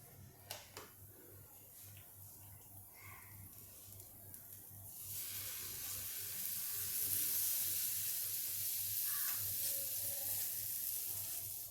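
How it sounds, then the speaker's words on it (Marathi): Masala bhakri flatbread sizzling on a hot griddle, a steady soft hiss that swells after a few seconds and holds, with faint clatter and a little talk early on. "भाकरी उचलून तव्यावर टाकूया"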